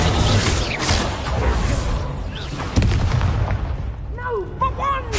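Expelliarmus spell cast in the Hogwarts Legacy video game, a dense booming burst of magical combat effects over a continuous rumbling battle din, with whooshing sweeps near the end.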